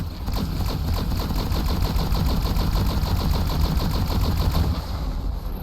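Full-auto Mag Gunner fire in a video game, a loud rapid stream of evenly spaced shots rattling on without pause for several seconds before easing slightly at the end.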